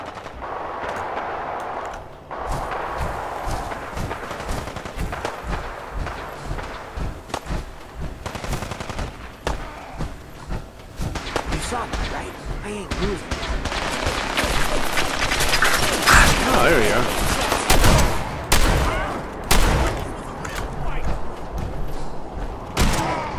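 Fallout 4 gunfire rattles on and off throughout: dense bursts of automatic fire and heavy single shots, some close and loud, with thuds and impacts that build to a louder stretch in the middle.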